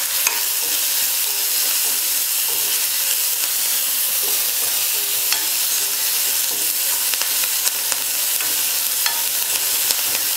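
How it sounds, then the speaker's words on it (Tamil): Finely chopped onion sautéing in a pan for mango rice and potato fry, a continuous loud close sizzle with scattered crackles and occasional stirring scrapes, no voices. "வெங்காயம் ஒரு 2 நிமிஷம் நல்லா வதக்கிக்கலாம்."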